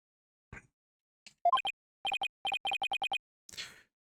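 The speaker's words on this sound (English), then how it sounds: "this guy's ringtone is like his own restaurant" A comic phone ringtone in Phoenix Wright: Ace Attorney – Spirit of Justice plays as a quick run of bright, evenly spaced electronic tones after a couple of soft plops, ending in a brief noisy burst.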